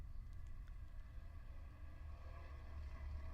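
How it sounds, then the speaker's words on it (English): A race car's Ligier Storm V4 engine gives a low, throaty exhaust drone that rumbles steadily throughout, heavy in the bass with a faint higher whine above it, at Road America. "As you can hear the exhaust note of these cars with that new Ligier Storm V4 power plant."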